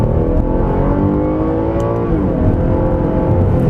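The engine of a 2013 Cadillac XTS revs hard in first gear, a loud, close, rising roar that climbs steadily in pitch from inside the cabin, with no one speaking over it.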